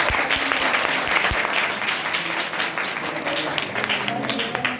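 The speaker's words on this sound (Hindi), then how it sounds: "ताली बजाइए।" A church service congregation breaks into loud, sustained applause, a thick continuous patter of many hands with some voices underneath and a few sharp low knocks early on.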